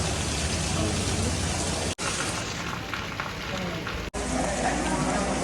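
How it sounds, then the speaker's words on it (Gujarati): Steady heavy rain pours down continuously, a dense hiss broken by two brief cutouts, with faint voices barely audible beneath. "હમણાં વરસાદ ધોવામાં ચાલુ છે"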